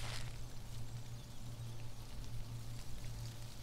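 Rain in the video game Sir, You Are Being Hunted patters steadily and softly as a continuous hiss of drops, with a low hum running underneath.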